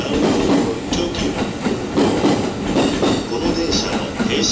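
A Japanese commuter train runs over rail joints, its wheels clacking in repeated rhythmic pairs under a loud, steady rumble heard from inside the carriage.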